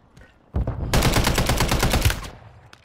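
Gunfire in Call of Duty rings out close and loud: a single sharp shot followed by a rapid rattling burst of repeated cracks lasting about a second, then a fading echo.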